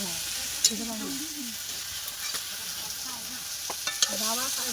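Duck meat stir-fried with spices in a hot pan, giving a steady, close sizzle with occasional scraping stirs, and faint voices murmuring in the background.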